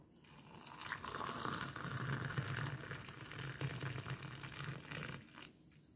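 Hot water pours from a kettle into a cup for homemade Nescafe with ginger and sugar, a steady close gushing stream lasting several seconds before tapering off.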